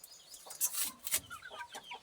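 Chickens cluck in short bursts, a few close, scratchy calls spaced over two seconds, fairly faint with no voices.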